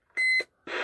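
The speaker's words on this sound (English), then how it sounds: "you got the stupid Roger beep" A CB radio roger beep sounds as a short, bright electronic tone when the mic is keyed and released, followed by a burst of hissing static.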